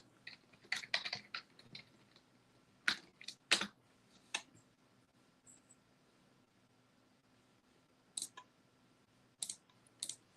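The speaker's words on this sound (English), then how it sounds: "I'll type it in myself." Keystrokes on a computer keyboard come in short quick bursts with gaps between them, clear and close against a quiet room with a faint steady hum.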